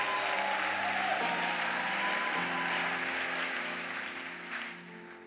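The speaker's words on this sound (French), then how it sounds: "Oui, on peut acclamer." Church congregation at a worship service applauding steadily, a dense wash of clapping that holds throughout and tapers slightly toward the end, with a sustained musical tone underneath.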